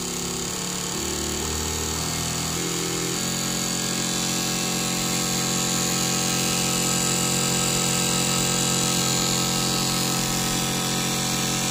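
Toyota single-shot fuel injectors fire on a cleaning and balancing test bench run at 5,000 RPM, a loud, steady, dense buzzing drone that holds unbroken throughout.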